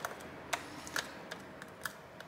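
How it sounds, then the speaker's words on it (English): Small screws being undone on the back panel of an MSI Stealth 14 laptop, a few faint, sparse clicks and ticks against quiet room tone. "As I'm undoing these back screws"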